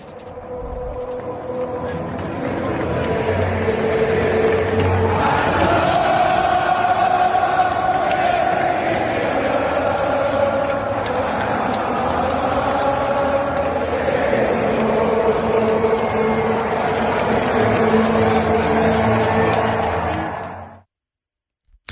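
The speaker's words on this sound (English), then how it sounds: "Country Roads by John Denver came on over the loudspeaker and the entire crowd just, ad hoc started singing it all together" A huge stadium crowd sings John Denver's "Country Roads" together after it plays over the loudspeaker. The dense, loud mass of voices swells and holds for about twenty seconds, then cuts off abruptly.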